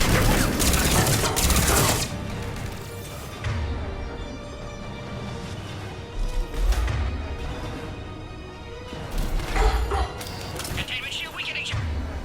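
Mass Effect 3 gunfire: sustained bursts of crackling shots and heavy thumps in a continuous loud firefight, with game dialogue spoken over the battle noise.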